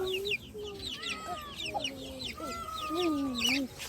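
Chickens and chicks cluck and chirp in a busy, overlapping chorus outdoors, with small peeping calls and occasional rustling nearby.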